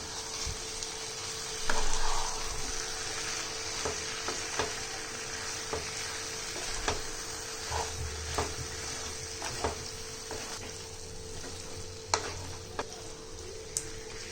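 Half a kilo of chicken fries in a pan for Chettinad chicken gravy while being stirred, a soft steady sizzle with scattered clinks and scrapes of the utensil against the pan.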